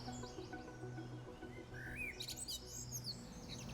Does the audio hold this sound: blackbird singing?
yes